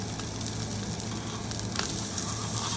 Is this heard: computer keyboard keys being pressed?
no